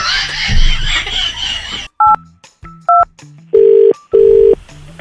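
After a short burst of noisy chatter, a series of clear electronic telephone tones beeps, several short blips followed by two longer, louder tones.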